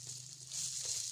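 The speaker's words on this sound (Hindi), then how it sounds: "हल्की सी इसकी भुनाई करते हैं ताकि ये जले भी नहीं और भुनाई भी हो जाए।" Chopped vegetables with cabbage being lightly fried in a pan, giving a soft, steady sizzle with a faint low hum underneath; the frying grows slightly louder halfway through and carries on without talk.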